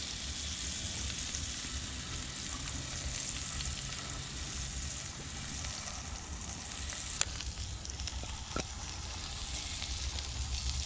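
A chunk of snook fish sizzles over an outdoor riverside fire, a soft continuous frying hiss and crackle with a couple of sharp pops near the end, no talk.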